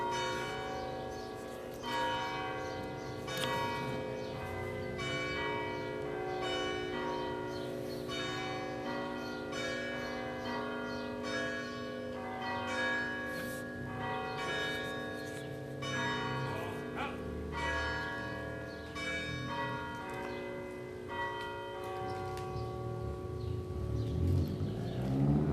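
Church bells peal continuously at an outdoor Independence Day program in Ste. Genevieve, Missouri, with rich overlapping tones ringing out steadily and a faint dog bark in the background.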